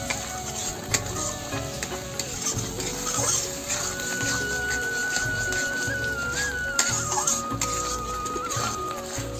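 Spice paste with milk sizzles in a pan while being stirred, giving a steady crackling hiss with occasional scraping clinks of the spoon and a faint high whine in the background.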